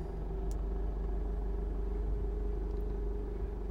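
A Honda CR-V 1.6 i-DTEC diesel automatic idles with a steady low rumble, heard from inside the cabin, constant and unbroken throughout.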